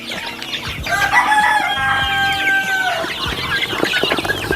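Elba chickens on a home flock crow and cluck together, a long drawn rooster crow rising over steady nearby clucking and scattered calls, fairly loud and continuous with no talk.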